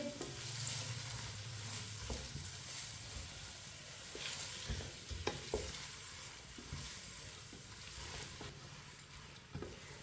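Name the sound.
onions being stirred while frying in a pan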